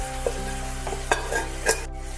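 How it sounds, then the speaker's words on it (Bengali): Sago pulao sizzles steadily in a pan, close up, while a spoon stirs it in a few distinct scraping strokes over the constant frying hiss. "নেড়ে চেড়ে নিতে হবে, মিশিয়ে দিতে হবে সব কিছু"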